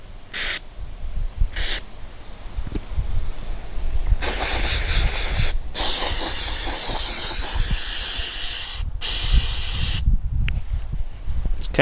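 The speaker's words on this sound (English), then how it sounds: "Definitely not like normal spray paint for sure." Aerosol can spraying chunky textured paint onto desert terrain and bases for tabletop miniatures, a few short hissing bursts followed by long, loud sustained sprays separated by brief pauses, close by.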